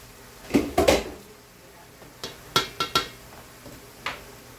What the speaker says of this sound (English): Let me get this lid off.